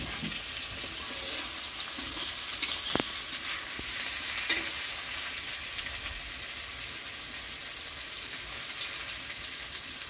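Onions frying in a pan after cumin seeds, a quiet steady sizzle with occasional stirring and clinking sounds, no talking.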